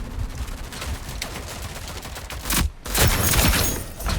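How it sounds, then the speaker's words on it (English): The Mamba gun fires in the video game Rogue Company as dense, loud, continuous gunfire with a brief gap before another burst. "See, the range on this gun, this Mamba, is so good."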